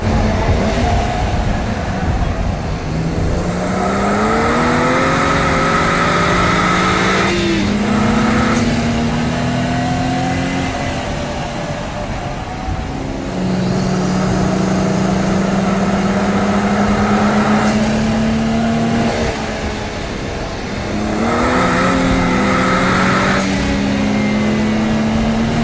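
BMW E30 325i race cars on a track, loud engines rising in pitch through the gears with repeated upshifts and brief dips between them, sustained and close throughout.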